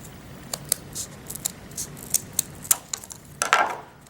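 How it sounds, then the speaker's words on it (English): Scissors snipping a cardboard square in half, a series of crisp, close snips and clicks at uneven intervals, ending in a longer slicing cut, with no talking. "I'll cut one of those off, and then I'll cut that in half."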